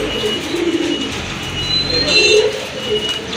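Pigeons cooing softly in a loft where a colourful male bird is shown, low murmuring coos over a steady background hum, moderately near and continuous, with no talking.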